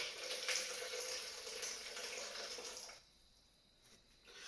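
Steady rush of boiling water pouring into a measuring jug, close by, for about three seconds, then a sudden drop to quiet background hiss.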